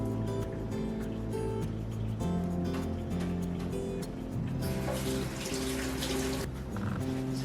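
Blood and water from a package of baby back ribs being poured out, a continuous splashing trickle into a sink, fairly close and steady, with kitchen clatter and no speech.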